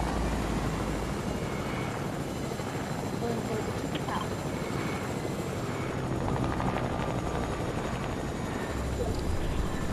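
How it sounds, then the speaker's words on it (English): Helicopter flying in a video game: a steady, dense rotor and engine drone that runs through the whole stretch, with a person talking over it. "I have a helicopter."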